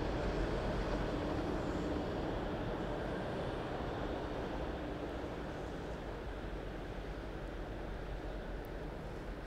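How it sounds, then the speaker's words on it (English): A train rumbles past on the seawall line near Dawlish, Devon, at a steady, heavy roar that fills the whole stretch, slowly easing slightly toward the end. "You can see a train going through now on the left."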